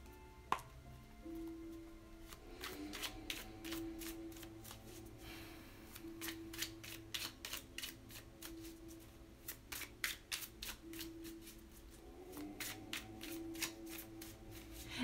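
Cards being shuffled in repeated bursts of crisp riffling clicks, close by, with brief pauses between rounds and a low hum underneath.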